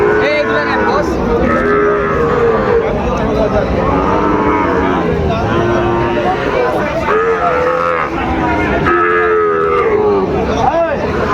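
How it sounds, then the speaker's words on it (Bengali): Sahiwal cattle at a livestock market in Dinajpur moo loudly and repeatedly, long low calls overlapping one another nearby, with some background voices mixed in. "গরু খুব সুন্দর"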